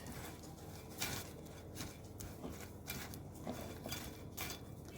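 Biscuits are stirred into cream in a dish, making soft, repeated scraping and clinking of a utensil against the dish, quiet and close, with no voices.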